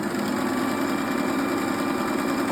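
A Singer sewing machine stitching a buttonhole runs with a steady, continuous mechanical whir and rapid needle chatter, close and unbroken throughout.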